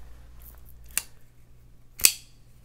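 A liner lock folding knife with a hard plastic FRN-type handle snaps open and shut, two sharp isolated clicks about a second apart, close and crisp over a quiet background.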